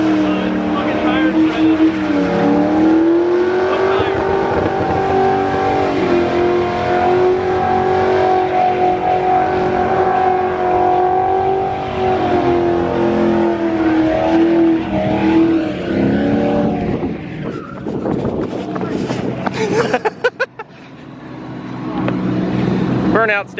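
A race car's engine roars loudly and steadily during a burnout, holding a high rev for most of the stretch before faltering and dropping off near the end, with voices mixed in.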